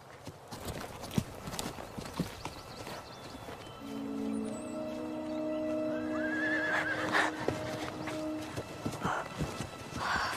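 Horses hitched to pull a riding chair clop their hooves in an irregular series, and one horse gives a drawn-out whinny partway through over a quiet background.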